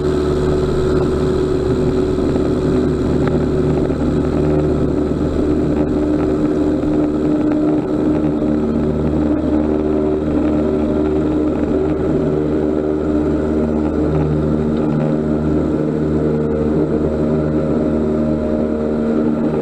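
Small plane powering up to take off from a highway after an emergency landing, a steady loud engine drone that holds unbroken throughout with no voices.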